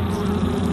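Honey bees imported to Japan buzz in a steady, dense hum up close, with no pause across the short stretch.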